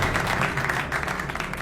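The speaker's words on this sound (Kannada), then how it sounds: "ಅವ್ನು ರಿಟೈರ್ ಆದ್ರೆ ನಾವೆಲ್ಲ ಯಾಕೆ ಚಪ್ಪಾಳೆ ತಟ್ಟಬೇಕು?" Applause from a crowd honouring a retiring official, a steady, dense patter of many hands clapping throughout at moderate distance.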